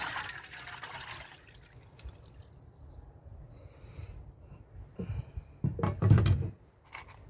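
Faint water trickles, then a litre of water pours more heavily into a camping stove pot in a short burst before stopping.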